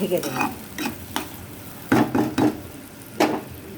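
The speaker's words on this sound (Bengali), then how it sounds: "দিয়ে দেবো আমি 1 চামচ সর্ষে বাটা। দিয়ে ভালো করে নেড়ে চেড়ে" Onions with a spoonful of mustard paste stirred in a pan, a series of close, distinct scraping strokes in uneven rhythm over a soft background sizzle.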